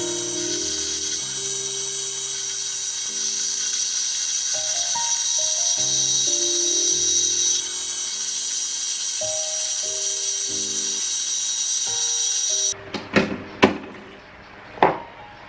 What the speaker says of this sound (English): This time I used the iron rod inside. That's right. We're going to machine it with a lathe.